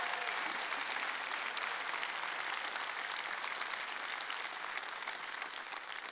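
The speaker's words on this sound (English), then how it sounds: "Give him some applause." Sustained applause from an audience at the EVE Online Fanfest 2023 keynote, steady and fairly distant, clapping continuously for several seconds with no voices over it.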